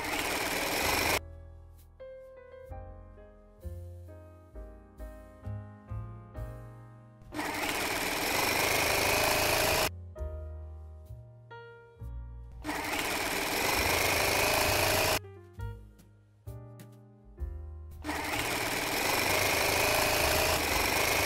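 A sewing machine runs in long stitching bursts along the bottom hem of a lace curtain, three steady whirring runs separated by pauses, close and clear.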